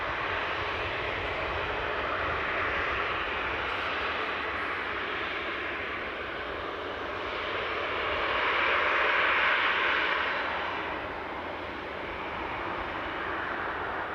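Airbus A321 engines at Newcastle airport, a steady broad jet roar heard from a distance, swelling briefly louder midway before settling back, with no talk.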